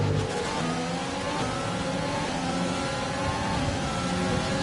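Race car engine in the F1 2020 video game at the Brazil circuit, a continuous loud mid-pitched drone with steady revving harmonics as a car runs into the pits, no talking.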